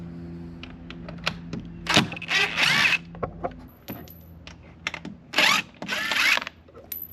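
Close mechanical ratcheting and zipping bursts come from T25 bolts being removed from the grill of a Mercedes Sprinter van, in several separate runs with quieter handling noises and faint clicks between them.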